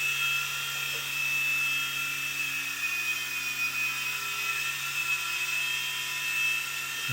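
A Blade mCX remote-control helicopter flies nearby, giving off a steady high-pitched electric whine with a constant buzzing tone that holds evenly throughout with no talk.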